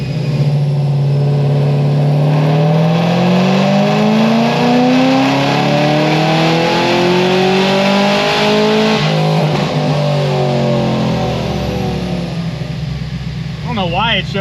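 A tuned car on a dyno makes a full-throttle pull, its engine roaring loudly and climbing steadily in pitch through the gears for most of the run before easing off.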